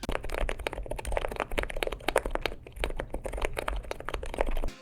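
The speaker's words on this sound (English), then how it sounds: "here's a sound test of the Turtle silent tactile switches, our top-selling silent tactile" Steady, rapid typing on a mechanical keyboard with Turtle silent tactile switches, muted, soft clacks in an even flurry, close up and moderately loud.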